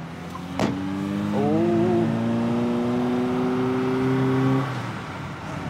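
Car pulling away hard at full throttle on a drive, the engine note climbing in a long steady rising whine after a brief thump, loud and close, then cutting off abruptly.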